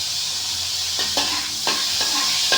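Potatoes sautéing in melted butter in a pan, a loud close sizzle with short scraping strokes of a spatula stirring at intervals.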